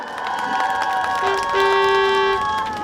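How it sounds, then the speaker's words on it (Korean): At the 2024 Samcheok Donggguri festival, a large outdoor crowd claps and cheers, with shouts and children's voices blending over sustained musical tones, loud and continuous for a few seconds. "다 같이 박수!"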